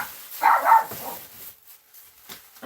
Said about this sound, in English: Sorry, I have puppies. I'm sure you hear them in the background there.